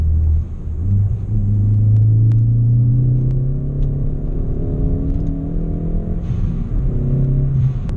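A Ford Fiesta ST driven hard, its engine a steady loud rumble with rising and falling tones as it pulls through the revs, heard from inside the car with no talking.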